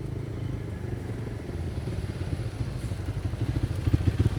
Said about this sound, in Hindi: ये देखें, बाइकर्स आना शुरू हो गए हमारे, फोर्ट के अंदर से आ रहे हैं।